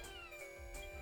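A short cat meow from the video game Slime Rancher 2 plays faintly over soft background game ambience.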